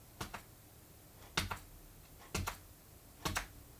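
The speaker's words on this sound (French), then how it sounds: "je vais aider un petit peu mon travail en prenant une aiguille et en venant percer complètement les trous que je viens de marquer" A needle pierces holes through thick paper for a handmade notebook, four sets of quick crisp clicks with short gaps between them, close and quiet, no talk.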